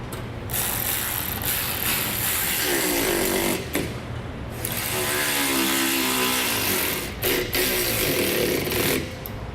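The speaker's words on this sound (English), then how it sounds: "we'll use our 7/16 inch wrench and socket and start snugging down our bolts" A 7/16 inch socket on a ratchet wrench snugs down bolts on a running board bracket, producing loud, close ratcheting clicks in several sustained bursts with brief pauses between strokes.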